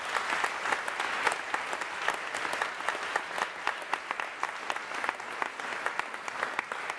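Fairly quiet, steady clapping from a seated audience after a speech at a French conference event, individual claps audible in a continuous patter, heard at a distance with no talking.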